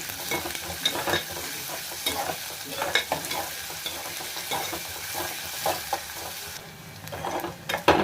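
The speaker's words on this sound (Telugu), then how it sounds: "ఇవన్నీ బాగా ఫ్రై అవ్వాలి" Green peas with onion, green chili, garlic and curry leaves fry in a pan, a steady close sizzle broken by repeated scraping stirs and small clinks, with no voices.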